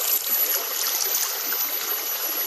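Stream water flowing and splashing in a steady, close, broadband rush with no break, the spoken words quiet beneath it.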